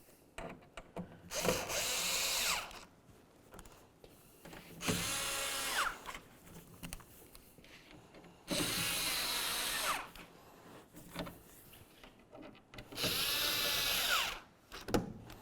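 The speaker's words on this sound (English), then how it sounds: "Let's start tightening the bolts along the top of the tailgate." Power drill runs in four separate bursts, each a couple of seconds long with pauses between, as it tightens the mounting bolts along the top of a tailgate molding on a 2004-2015 Nissan Titan. The drill is close and loud.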